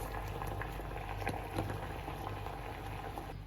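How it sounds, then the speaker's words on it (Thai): Water boiling steadily in a pot, a dense continuous bubbling and popping with no voices. "ตั้งน้ำเดือดแล้วเหรอเดี๋ยวเรามาต้มน้ำตาลนะคะ"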